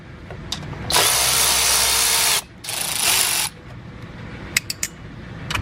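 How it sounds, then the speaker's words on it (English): Power ratchet driver backing out screws from a Jeep Gladiator knee speaker enclosure, two sustained loud whirring bursts of over a second each, then a few short clicks near the end, with no talking. "I've got to take this box out, so I do have more screws to take out"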